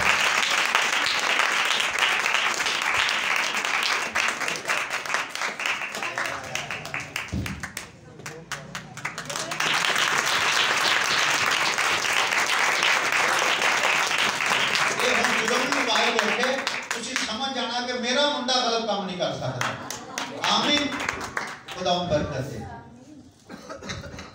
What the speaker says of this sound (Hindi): तो खुरम साहब के लिए जोरदार तालियां।